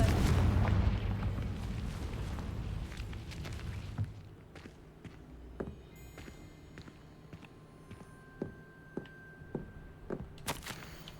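In the video game Hogwarts Legacy, a Confringo spell explosion lands as a heavy, rumbling blast at the start and fades over about four seconds. Scattered sharp clicks and light footstep-like taps follow.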